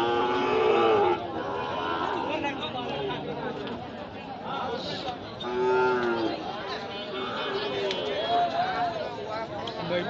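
Sahiwal bulls at a crowded rural livestock market low and moo repeatedly, with several drawn-out calls rising over steady crowd chatter and people talking nearby.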